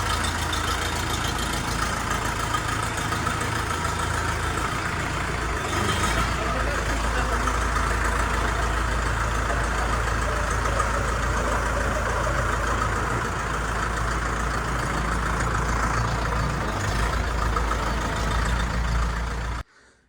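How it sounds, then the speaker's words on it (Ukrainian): An Orion JD 504 cab tractor runs with a steady, close low engine drone and a slight rise around the middle before cutting off abruptly at the end. "Їде тракторець на передпродажку і їде до своєї нової домівки."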